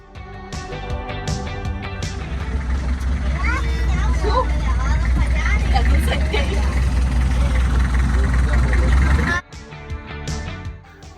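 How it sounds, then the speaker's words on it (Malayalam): Small wooden passenger boat with its engine running as it moves slowly away from the shore, a loud steady low drone filling most of the stretch before cutting off sharply near the end. "അങ്ങനെ ബോട്ട് പതിയെ മുമ്പോട്ട് പോയിക്കൊണ്ടിരിക്കുകയാണ്."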